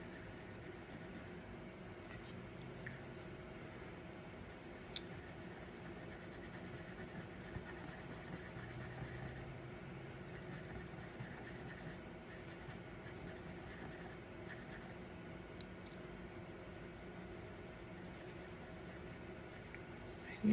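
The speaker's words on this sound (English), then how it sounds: "You just keep on scrubbing until you like the layer of color that you get." Color is scrubbed onto a paper angel ornament in quick, soft, rasping strokes that continue steadily at close range and fairly quietly, with no talking.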